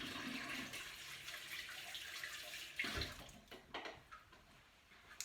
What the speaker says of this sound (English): I gotta wash my hands again